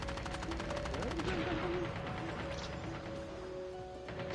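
Rapid automatic gunfire in the video game Call of Duty Mobile, a dense continuous rattle of shots that eases off slightly toward the end, with game effects and voices underneath.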